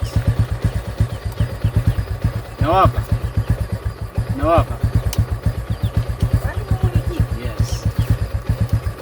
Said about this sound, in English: So here is my bike, my motorbike.